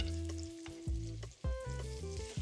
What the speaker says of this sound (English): That pan is really nice and hot, the oil is hot, so wait for this sizzle to start.